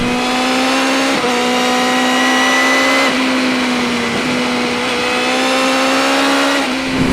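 A BMW M 1000 R motorcycle engine screams at high revs while being ridden, with a loud, sustained whine. Brief dips in pitch mark gear changes before it climbs again.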